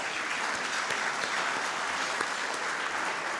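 A large crowd applauds steadily at Kenya's KEPSA 10th anniversary celebration, a dense continuous patter of many clapping hands filling the room with no voices on top.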